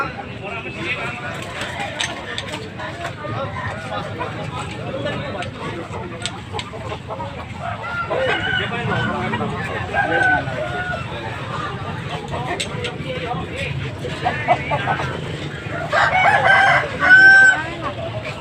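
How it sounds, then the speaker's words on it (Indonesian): Many chickens cluck and roosters crow repeatedly amid a busy outdoor bird and chicken market in Kemojing, Binangun, Cilacap, Central Java, with people talking in the background and a loud crow near the end. "Ayam banyak."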